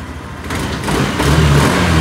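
A motorcycle engine that had refused to start for weeks and was suspected of a bad ECU runs steadily after repair, a close, continuous mid-pitched drone that builds slightly louder partway through without pausing.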